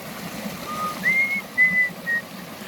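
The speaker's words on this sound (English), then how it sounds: "Oh, sorry, I was whistling." A hiker whistles a short, soft tune outdoors on a trail, a few sustained clear notes rising above a low background hum of wind or distant water.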